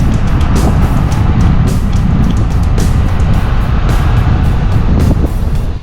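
An off-road vehicle crawls slowly along a bumpy, rough backcountry trail in Nevada's Black Rock Desert, its engine and tyre rumble loud and continuous with steady jolting rattles and wind buffeting the microphone throughout, no talking.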